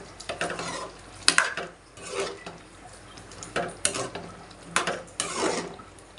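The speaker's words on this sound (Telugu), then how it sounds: "కొత్తిమీర ఒకసారి కలిపేసేసుకుని" A spoon stirs fresh coriander through a finished curry in a pan on a switched-off stove, with repeated scraping, clinking bursts and soft wet mixing, close and fairly loud.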